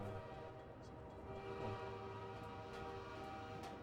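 Train rumbling past in Half-Life 2 on the original Xbox, a steady mechanical roar with tonal whine and faint clatter, sustained and fairly close, with no speech.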